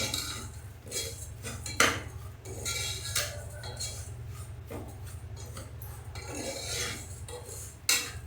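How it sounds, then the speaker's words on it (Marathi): Cashew pieces roasting in a pan for jaggery lapsi, with a spoon clinking and scraping against the metal in irregular bursts over a steady low hum, no talking. "काजूचे तुकडे करून घेतले ते टाकते हे सगळं आपण याच्यामध्ये चांगलं भाजून घेऊया"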